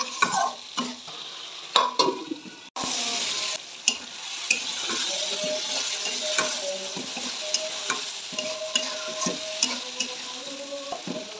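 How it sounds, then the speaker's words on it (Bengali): Potatoes are stirred in a pan with fish oil and salt, producing a steady frying sizzle broken by repeated scraping strokes of a spoon throughout, close and fairly loud, with no talking. "এখন লাড়াচাড়া করে একটু ঢেকে দিব"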